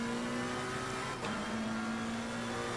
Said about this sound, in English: We're just going to accelerate out.